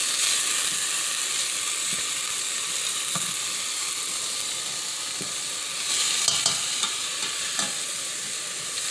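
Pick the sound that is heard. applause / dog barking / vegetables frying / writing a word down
vegetables frying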